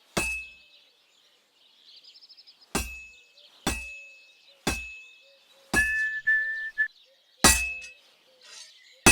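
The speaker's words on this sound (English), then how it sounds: "Now take the hammer and try hitting it a few times." Hammer striking a sword on an anvil in a blacksmith scene in Kingdom Come: Deliverance II, a series of about seven sharp ringing metallic clangs spaced a second or so apart, each decaying quickly, with light clinks between.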